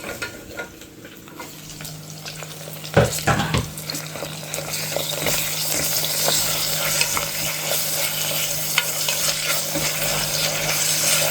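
Tomatoes tipped into a frying prawn gravy: a sudden splashy burst near the start gives way to a loud, continuous sizzle with stirring and scraping throughout, nothing spoken.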